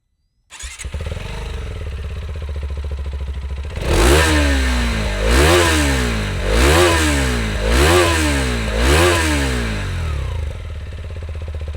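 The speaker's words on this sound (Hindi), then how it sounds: "आपको इसका एग्जॉस्ट नोट सुनाता हूँ" A 2026 TVS Apache RTX 300 motorcycle starts and settles into a rumbling idle, then the exhaust roars through five sharp revs that rise and fall back.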